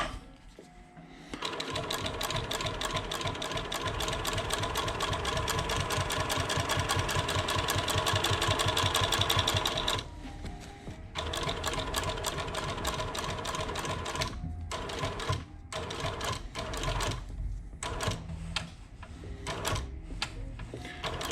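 A sewing machine back-stitches the leather upper of a custom Air Jordan 1 sneaker, giving a loud, steady mechanical run of rapid stitching that stops briefly around the middle and then resumes in short start-stop bursts.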